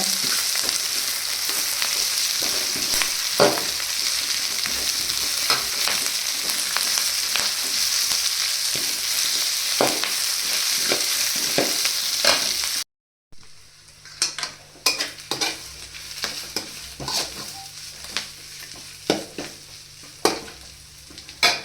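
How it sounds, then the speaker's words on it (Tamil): Drumstick leaves and onions frying in a pan, with steady sizzling and a spatula stirring and scraping at intervals; the sizzle drops sharply partway through, then continues more quietly with clearer stirring clicks. "இதில் முருங்கைக்கீரை சேர்த்துக்கோங்க நல்லா மிக்ஸ் பண்ணி விடுங்க"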